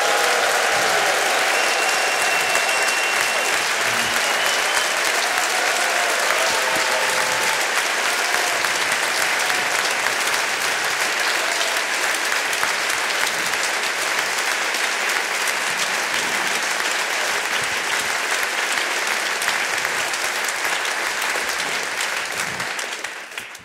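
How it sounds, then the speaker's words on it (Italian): A concert audience at a German community sing-along event gives the musicians sustained loud applause, a dense, even clapping roar that continues for over twenty seconds before beginning to thin out at the end. "Kommt, noch einen Applaus für unsere Musiker!"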